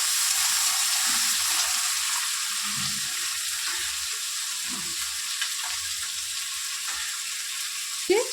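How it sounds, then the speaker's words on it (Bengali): Sliced onions and green chili frying in a pan, a loud, steady hiss of sizzling oil with a few soft low knocks and a short clink near the end. "পেঁয়াজটা ভাজা ভাজা হয়ে আসুক"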